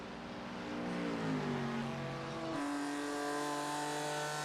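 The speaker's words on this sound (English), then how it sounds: "You can hear the pace car once again." A pace car drives around the Blue Ridge race track during a sportscar race, its engine note rising and shifting pitch as it passes at moderate distance, with no talk over it.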